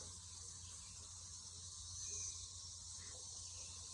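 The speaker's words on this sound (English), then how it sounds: "I don't know if you can hear that or not. Those are cicadas." Cicada brood in Middle Tennessee: a faint, distant, continuous high-pitched buzzing drone that stays steady throughout, with no talking.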